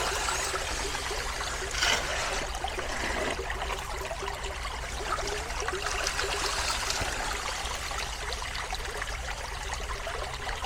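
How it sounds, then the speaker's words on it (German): Shallow creek with very weak current during gold panning in Germany, water trickling and dribbling steadily and softly throughout, close by with no voices. "Jetzt sind wir an einem Bach mit ganz wenig Strömung"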